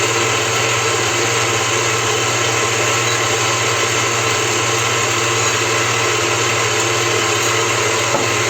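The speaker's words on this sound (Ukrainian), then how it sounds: "Тепер будемо збивати ці чотири білки" A steady, loud motorized whir of an electric mixer whipping four egg whites at constant speed runs without a break; no voices are heard.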